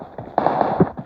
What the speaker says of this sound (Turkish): Silah sesleri geliyor.